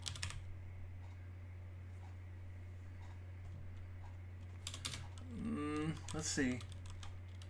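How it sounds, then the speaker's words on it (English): Typing on a computer keyboard sets off a run of quiet, close clicks and taps, with someone speaking briefly near the end. "I'm going to type QT."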